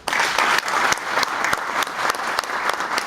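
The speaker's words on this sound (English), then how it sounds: "Please join me in cheering Population Media Center Ethiopia." Audience at the 10-year anniversary celebration of Population Media Center Ethiopia applauds and cheers, steady dense clapping with a few sharper claps sustained for about three seconds, loud and close.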